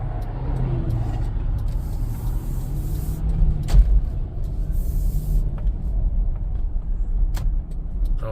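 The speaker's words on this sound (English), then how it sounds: "We got a semi that doesn't know rules on how to drive." A semi truck rumbles past on a road nearby, a heavy low engine roar with tire hiss swelling and fading, a brief air-brake-like burst in the middle.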